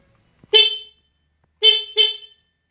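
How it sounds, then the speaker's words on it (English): Three short, bright horn honks close by from a 2017 Honda Rebel CMX500 motorcycle: one toot, a pause, then two quick ones in succession. "I'm going to honk the horn."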